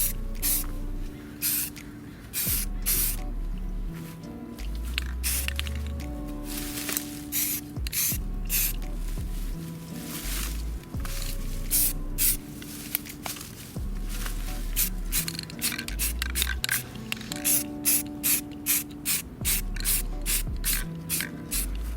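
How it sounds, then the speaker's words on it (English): Spray paint can hisses in repeated short bursts while a light coat goes onto an Xbox One controller, close and steady with brief pauses between sprays, no talking over it. "Now I'm just going to put a light coat on. I'm going to make sure to get all the edges first."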